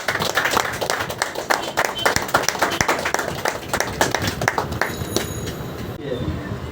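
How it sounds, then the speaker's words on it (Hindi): Loud applause and clapping from an audience at the inauguration of a new branch of a Hindi-speaking community council in Lodha Palava, dense overlapping claps with some voices and cheering mixed in. "जोरदार ताली।"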